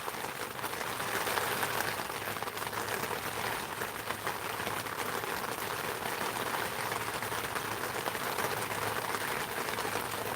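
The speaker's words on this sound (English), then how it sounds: "looks like the rain is getting harder" Steady heavy rain pours outside near a greenhouse, a dense continuous hiss of drops drumming on surfaces for the whole stretch, close and fairly loud with no voices.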